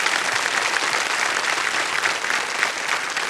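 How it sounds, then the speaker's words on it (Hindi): A studio audience at a televised quiz show in the Fastest Finger First round gives a loud, sustained burst of applause for a contestant. The dense clapping stays steady and close throughout, with no talk over it. "एक बार जोरदार तालियां फिर से बज जाए इनके लिए।"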